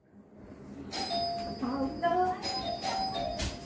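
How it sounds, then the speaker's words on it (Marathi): A doorbell rings in a home during a birthday gathering, a few repeated electronic chimes at moderate volume with voices and household noise faintly underneath. "बघ आता उगाच बेल मारत"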